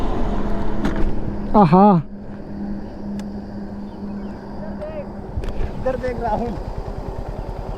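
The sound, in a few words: motorcycle engine with clutch held, KTM Duke 200 vs Yamaha MT-15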